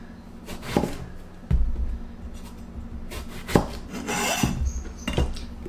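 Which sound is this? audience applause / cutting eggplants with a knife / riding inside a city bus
cutting eggplants with a knife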